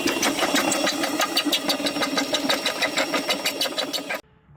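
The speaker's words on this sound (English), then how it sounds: "run it through the 6x6 Lynx jaw crusher to crush it to -1/2 inch" A 6x6 Lynx jaw crusher crushing ore to minus half inch runs with a loud, rhythmic mechanical pounding and clatter, steady beats near and continuous, before cutting off abruptly at the end.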